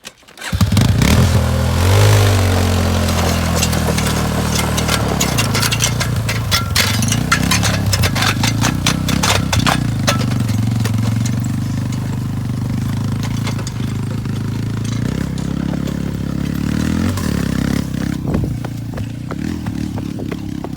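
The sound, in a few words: Yamaha dragging pulled Polaris engine to scrap pile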